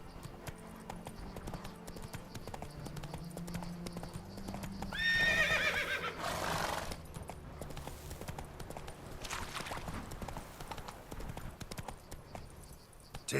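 A horse ridden through the game world of The Witcher 3, its clip-clop hoofbeats and a brief whinny steady and close, with no speech over them.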